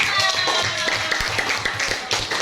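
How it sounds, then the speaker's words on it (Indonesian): A classroom of students claps for a presenting group, loud, close clapping with distinct hand strikes and taps over a busy room. "Tepuk tangan dulu untuk kelompok 5"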